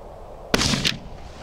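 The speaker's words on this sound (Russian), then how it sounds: "Опять же, хороший, комфортный выстрел." A single close, loud gunshot from a TOZ-34 over-under shotgun fired from the lower barrel at an outdoor target, a sharp crack with a short ringing tail and a smaller second burst just after.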